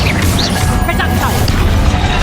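A Reducto blasting spell strikes in Hogwarts Legacy, a loud crashing impact with rumbling debris under game voices and combat noise.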